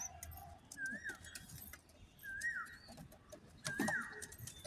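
A male tamralu pigeon coos three times at regular intervals, soft and fairly close, with faint background noise between the calls.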